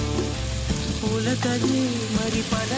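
Prawn shells and onions with salt frying in a pan for a curry, producing a loud continuous sizzle under a layer of background music.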